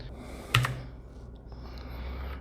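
Keys tapped on a budget gaming keyboard, a sharp cluster of clicks early followed by quieter scattered presses over a low hum, close and isolated.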